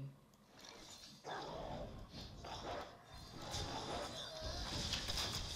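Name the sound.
dogs from Unleash the Hounds card in Hearthstone video game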